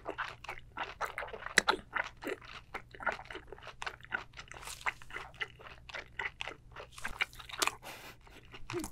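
Close, crisp crunching and chewing of a spicy giant mala seafood boil, with rapid, irregular bites and squishy mouth sounds repeating steadily throughout, no talking.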